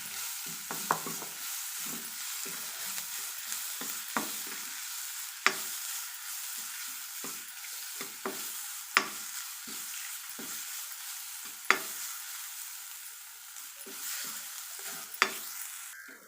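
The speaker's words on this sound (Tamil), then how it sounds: "இதில் ரசப்பொடியை ஆட் பண்ணி கொஞ்சம் இதில் வதக்கிக்கலாம் எண்ணெயில்." Rasam powder sizzling as it fries in hot oil in a pan, with steady crackling and repeated scrapes and clacks of a spoon stirring it, close and alone.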